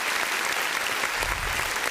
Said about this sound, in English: Just gotta give her an applause there.